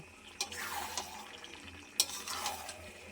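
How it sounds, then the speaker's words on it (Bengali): Chicken curry with potatoes stirred in a pot, a few soft scraping strokes and light clinks over a faint sizzle, close and fairly quiet, no voices. "এবারে আমি একটু ভালো করে নেড়ে চেড়ে নেব"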